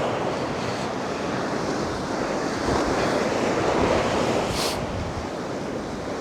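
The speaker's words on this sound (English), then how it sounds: "you can't really get rid of the noise of the sea" Waves wash steadily onto a North Sea beach near Anderby Creek in a constant broad roar, with a light wind rush over the microphone and a brief hiss near the end.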